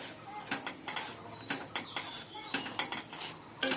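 Semolina stirred in ghee in a metal pan, with repeated scraping and clinking of a utensil against the pan in uneven strokes, close and moderately loud, without talk.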